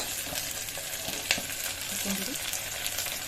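Vegetables for a hostel-style pulao, with cumin, onion, cauliflower, beans, carrot and potato, fry in a pan with a steady close sizzle and a single sharp scrape of a spoon partway through, and no talking.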